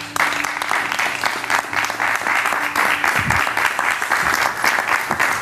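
A television studio audience applauds for a musical guest, a dense, steady burst of clapping that carries on evenly for several seconds.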